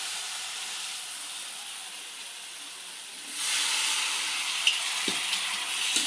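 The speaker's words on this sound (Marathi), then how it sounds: "आता आपण गरम केलेली ब्रोकली यामध्ये मिक्स करूयात." Heated broccoli tipped into a hot frying pan sets off a steady sizzling hiss that suddenly swells louder and brighter, with a couple of soft clacks of stirring near the end.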